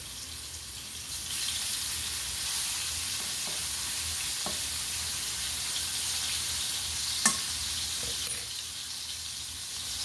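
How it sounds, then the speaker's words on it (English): Steady, bright sizzling of a redfish fillet frying in a hot pan, continuous throughout, with a couple of faint clinks. "You can hear the sizzle."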